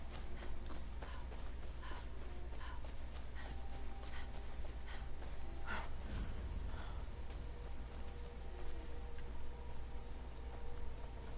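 Steady clip-clop of horse hooves in the game Skyrim, a continuous rhythmic trot over a dense background of ambient noise and mechanical clatter.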